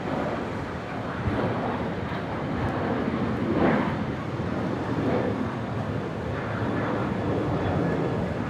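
Airliner rolling down the runway for a full-length takeoff at Brisbane International Airport, a distant broad roar steady for several seconds, mixed with wind noise and faint talk.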